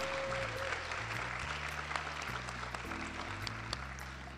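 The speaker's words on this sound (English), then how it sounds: "Let's give them one more round of applause." Audience applause at an evening teacher of the year awards ceremony honoring winners, a steady wash of clapping from a full room with a low sustained tone underneath, no talking.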